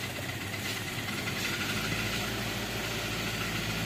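Toyota Avanza/Xenia engine with leaking compression, running rough and close to stalling; it is noisy and slow to start. The steady, close idle rumble throbs unevenly throughout, with no talk.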